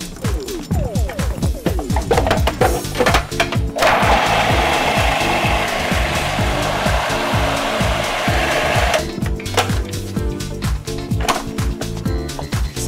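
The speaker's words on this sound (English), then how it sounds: "So I'm just going to whiz this together to make a nice mixture to make the bites." A food processor whizzes a chickpea and chilli mixture, its motor whirring in loud pulsing bursts with rattling, then holding a steady grinding roar before pulsing again near the end.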